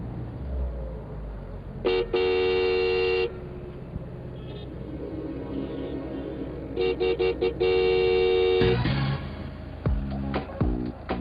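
Car horns honk repeatedly in street traffic, with long sustained blasts and a series of short toots, loud and close, among engine and road noise; no one speaks over them.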